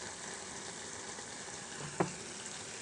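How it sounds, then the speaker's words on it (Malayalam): Fresh coconut oil heats over a prawn and raw mango curry, giving a steady low sizzle with one short clink or stir partway through. "ഒരു ശകലം പച്ച വെളിച്ചെണ്ണ ഒഴിച്ചിനി ഒന്നുകൂടെ ചൂടാക്കാം."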